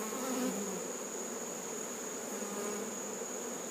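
Honey bees swarm around an open hive box heavy with honey, a dense, steady buzzing drone that stays close and constant with no voices over it.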